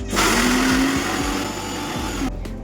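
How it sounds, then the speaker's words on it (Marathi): A mixer grinder whirs loudly for a couple of seconds, coarsely pulsing chili, coriander, ginger and garlic, with thumping chunks knocking inside the jar before the motor cuts off. "मिरची कोथिंबीर आलं आणि लसूण हे सगळं मिक्सरला मी बार फिरवून घेणार आहे"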